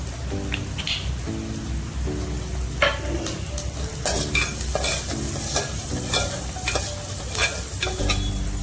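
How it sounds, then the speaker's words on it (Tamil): Steady sizzling of onions frying in a pan, with intermittent stirring scrapes and clicks throughout, no talking. "வெங்காயம் வதங்கட்டும்."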